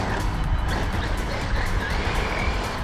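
A large RC car runs at about half throttle, a steady rushing motor and tyre noise with a whining tone that rises and falls as it drives, heard alone without talk.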